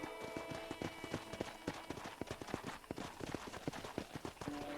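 Steady clip-clop of horse hooves trotting at an even rhythm in Red Dead Redemption, fairly close, over a busy ambient background of music and environmental noise.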